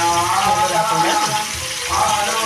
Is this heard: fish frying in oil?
yes